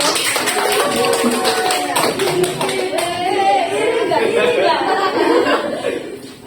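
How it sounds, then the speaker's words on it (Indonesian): Students in a classroom clap together for several seconds, a busy patter of hands mixed with chatter and light laughter close by. "Oke, tepuk tangan semuanya."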